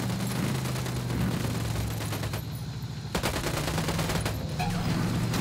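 Sustained gunfire in the tactical shooter video game Ghost Recon Wildlands, a dense, continuous volley of rapid shots with a brief lull near the middle before the firing picks up again, loud throughout with no talk.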